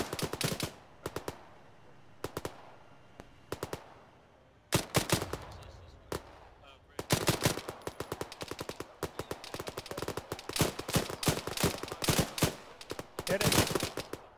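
Machine gun fire in a war video game, crisp short bursts and single reports spaced by quiet gaps at first, then denser, louder strings of rapid shots toward the end.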